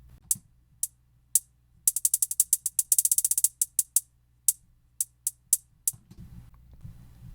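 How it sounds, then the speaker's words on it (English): Ableton Live hi-hats with auto pan swinging them between the left and right speakers play a dry, airy pattern of single ticks and rapid stuttering rolls, close and unaccompanied, ending in a faint low murmur. "auto pan will just allow the hi-hats to kind of bounce back and forth between the speakers left and right"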